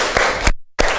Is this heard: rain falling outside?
no